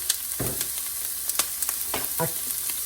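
Onions sauté in a hot pan for chicken fried rice, a soft sizzle under scattered clinks and scrapes of a utensil moving the pieces around, close by with no talk.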